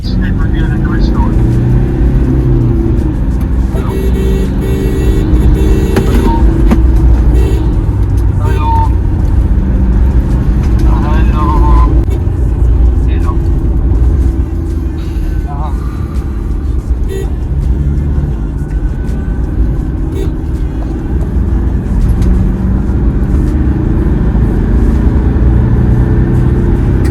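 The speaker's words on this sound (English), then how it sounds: "So now Rohan is driving the car." Tuned 2014 Toyota Fortuner 4WD with a 3.0 diesel engine on a Superchips Stage 1 tune, droning steadily and loudly as it is driven, with engine rumble and road noise running throughout under music.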